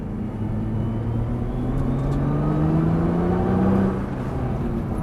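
A Nissan GT-R on a race circuit, its engine note rising steadily as it accelerates, loud and continuous with a sustained climbing drone from start to finish.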